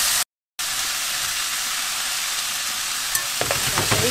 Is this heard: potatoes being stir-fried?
yes